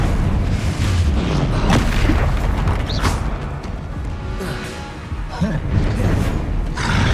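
Spell impacts from a Harry Potter video game, including Descendo, heard as a dense run of heavy booming blasts and thuds over loud, rumbling game action, close and continuous.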